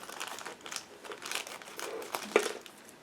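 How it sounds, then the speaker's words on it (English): Plastic bag holding parts for a Trumpeter 1/35 E-50 Flakpanzer model kit is opened, giving close, moderately loud crinkling and rustling in irregular bursts over three seconds, with a sharper snap near the end and no talking. "I need to open this plastic bag"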